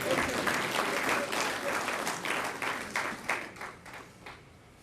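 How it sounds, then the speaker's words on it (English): Applause from a conference audience honoring a guest: a full burst of many hands clapping, loud and close at first, then thinning and fading over a few seconds. "Give him a round of applause."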